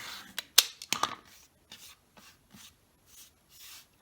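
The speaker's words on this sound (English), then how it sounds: "trim away the excess fabric" A blade cuts away excess quilting fabric along a ruler, a few close scratchy rasping strokes at the start followed by softer, sparser swishes and rubs, quiet and with no talking.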